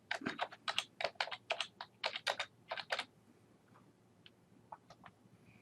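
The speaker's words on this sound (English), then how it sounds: "here you just type your name for the signature and enter the date" Quick rhythmic tapping on a computer keyboard while a name is typed, close and quiet, followed by a few scattered keystrokes and silence.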